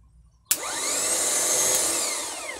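A car starter motor is powered directly, bypassing the solenoid, and kicks in with a sharp click, then spins up into a steady, loud whirring whine with rising and falling tonal sweeps. It runs alone, close by.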